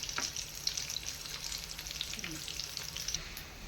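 Semolina and potato snacks fry in hot oil with a steady, dense sizzle and crackle, a few faint stirring scrapes in between, close and unbroken with no voices.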